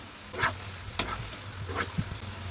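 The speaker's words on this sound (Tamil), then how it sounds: "மீடியம் ஃப்ளேமில் வச்சு நல்ல முறுமுறுப்பாக ரெண்டு பக்கமும் நல்லா பொறிச்சு எடுத்துக்கலாம்" A crispy maida and potato snack deep-fries in oil over a medium flame, giving a steady soft sizzle, with a few brief scraping stirs and taps in the pan.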